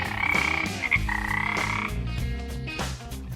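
Frogs croaking loudly and continuously, dense overlapping calls layered over a steady low chorus, close and busy with no voices.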